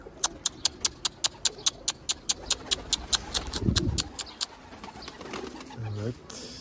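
Tumbler pigeons in Tekirdağ flap as they land, a fast, even run of sharp wing claps, followed by softer cooing and a brief voice near the end.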